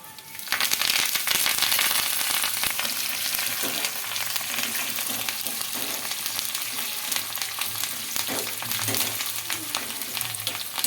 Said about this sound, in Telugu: ఈ వెల్లుల్లి రెబ్బలు అయితే మనకు కొద్దిగా ఫ్రై అవ్వాలండి ఇలా ఫ్రై అయిన తర్వాత కరివేపాకు అయితే వేసుకుంటున్నానండి